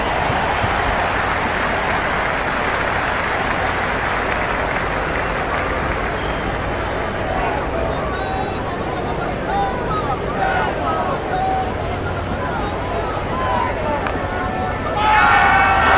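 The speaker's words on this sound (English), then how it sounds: "the crowd have joined the party. It's pretty noisy at the ground." A loud, roaring cricket crowd at Wankhede Stadium during an India vs South Africa T20 World Cup semi-final keeps up a constant wash of cheering and noise, swelling again near the end.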